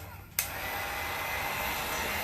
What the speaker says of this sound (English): Just running my dryer right now.